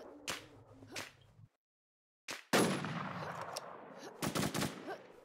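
Gunfire in the video game Warzone comes in sharp cracks and short bursts, some close and loud, with a brief gap of near silence in between.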